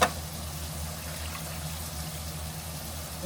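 Hot water pours steadily into a cooking pot of stuffed green peppers in beef bouillon, a continuous close gushing wash with a low hum underneath, beginning with a brief splash.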